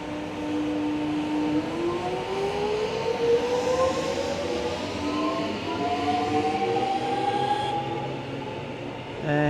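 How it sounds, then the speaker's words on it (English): A suburban Melbourne train pulls out of a station platform, its electric motor whine rising steadily in pitch as it accelerates away, loud and close over a rumbling background. "And off goes that train."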